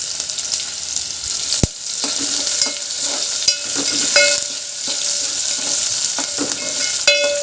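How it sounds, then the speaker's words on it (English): Big onion slices fry and sizzle in a pan at home, with a steady hiss broken by sharp scraping clicks as a utensil stirs and taps against the pan. "And now at this time I'm going to add some onion."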